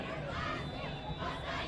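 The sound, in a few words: high school football crowd cheering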